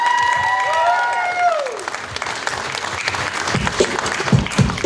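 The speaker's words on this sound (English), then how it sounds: "Let's give a round of applause for them." An audience at a car show bursts into steady, moderately loud applause that follows a brief tonal sound and carries on to the end, with a few voices mixed in.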